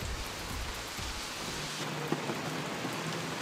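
Rain falls steadily outdoors in a soft, even hiss, moderately quiet and continuous, with no voices over it.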